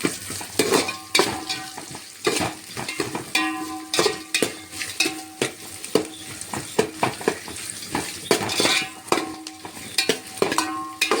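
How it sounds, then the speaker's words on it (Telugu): Onions fry in a pan on high flame with steady crackling sizzle, punctuated by frequent close scraping and clattering stirs in an irregular rhythm, without talking. "ఆనియన్ని కొంచెం లైట్ పింక్ కలర్ వచ్చేంత వరకు కూడా ఫ్రై చేసుకుంటాం."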